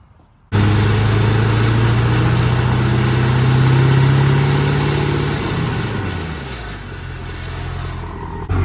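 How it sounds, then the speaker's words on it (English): A Duramax truck engine idles loud and close for several seconds after an abrupt start, its steady drone easing lower toward the end, with no talking; any brake pad rubbing is not clearly distinct. "Brake pads rubbing against something."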